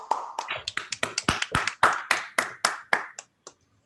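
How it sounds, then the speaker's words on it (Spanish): A short burst of hand clapping from a small group, brisk and fairly close, tapering off into a few scattered claps before stopping. "vamos a un aplauso"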